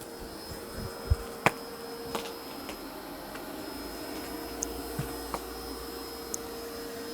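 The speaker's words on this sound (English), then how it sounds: "it boosted suction, and it's doing a vacuum only" A Dreame X60 Ultra robot vacuum cleaner runs on boosted suction in vacuum-only mode with its mop pads raised, giving a steady whirring motor hum with a faint high whine and scattered soft clicks and taps as it moves.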